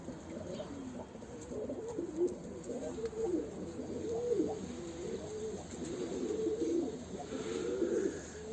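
Several pigeons coo continuously in low, rolling calls, overlapping one another at close range with steady background hum.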